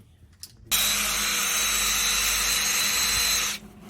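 A power tool grinds and cleans metal on the axle of a 1985 Dodge D150 truck, preparing it for welding spring perches; one loud, steady burst of about three seconds starts abruptly and stops, with no talking.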